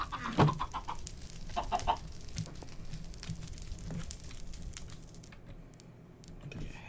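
Chickens in a Minecraft modpack with a chicken breeder, a few short clucks near the start and around two seconds, fairly faint over a busy bed of clicks and game noise.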